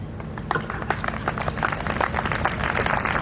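Audience clapping at a Hindi kavi sammelan poetry recital, individual claps growing denser over a few seconds, moderately quiet and heard over a low hum.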